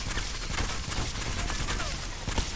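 A gun fires from the hip in a video game, a rapid burst of sharp gunshots rattling continuously and fairly loud over game background noise.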